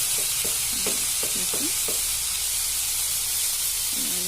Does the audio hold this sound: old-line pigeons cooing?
no